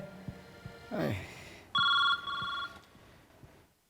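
A telephone ring from a Marathi comedy sketch sounds as short bursts of electronic bell tones, one long burst followed by a shorter one, loud in a quiet room.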